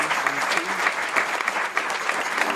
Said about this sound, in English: may I ask all for a round of applause and thank our chair, Professor Gough